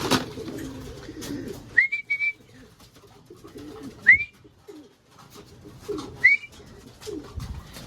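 Pigeons in a loft at feeding time give a few short coos and whistly calls at about 2, 4 and 6.5 seconds, over low rustling and shuffling, with no talk.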